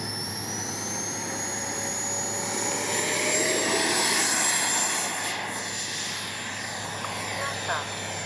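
An FMS 80mm F-86 model jet with a ducted-fan engine whines and roars on takeoff, its high-pitched tone rising and the roar building then easing as it moves away, with voices faint in the background.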